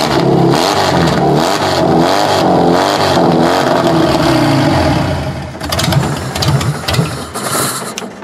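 A car engine cranks and sputters in uneven surges, then catches into a rough, wavering run with rattling clatter.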